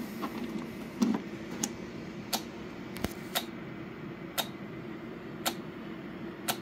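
An ETAKER M2000 solar generator under a 1500 watt load gives off sharp, evenly spaced clicks about once a second, like a ticking clock, over a low constant hum.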